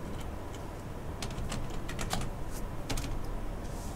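Steady typing on a computer keyboard, a run of light, closely spaced key clicks with a few sharper taps, heard up close over a constant low background hum with no talking.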